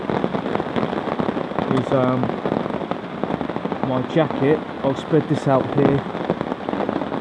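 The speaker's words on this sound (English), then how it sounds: "Listen to that rain, mate." Rain falls on a tarp during a camping stay on Dartmoor, a dense, steady patter close overhead that runs the whole time while someone talks nearby.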